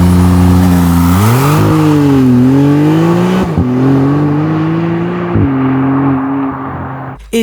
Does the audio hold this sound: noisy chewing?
no